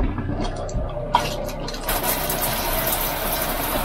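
Water drains and trickles from the freshwater tank lines of an RV during winterizing, a close splashing gush starting after a brief drip and gurgle.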